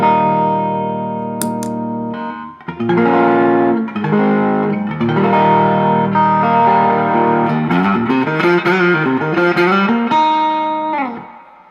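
Electric guitar played through a boosted Fuzz Face pedal at cleaned-up settings, a few ringing chords and single notes with light grit, sustained and decaying at the end, alone and up close.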